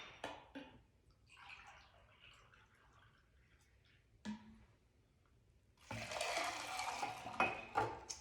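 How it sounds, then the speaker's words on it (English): Pomegranate juice poured into a cocktail shaker over ice, a faint trickle followed by a louder, steady splashing pour near the end, preceded by a few light clinks. "Now in our shaker, we're going to add 1 cup of pomegranate juice."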